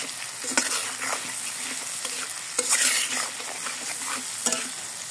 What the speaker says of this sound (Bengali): এরকম সবগুলো মশলা একসঙ্গে ভালো করে কষাতে হবে।